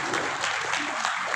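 A hall full of people at a West Bengal Mutawallis association gathering claps loudly and continuously, a thick, even roar of applause that fills the short moment without speech.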